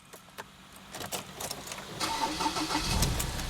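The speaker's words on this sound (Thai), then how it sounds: "นี่เสียงเครื่องนุ่มมากๆเลยนะครับ" Keys clink, then a 2018 Ford Everest 2.2 Titanium+ engine cranks and catches, settling into a smooth, close idle.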